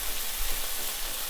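A steak searing in a hot pan gives a dense, continuous sizzle, loud and close, with no voices over it.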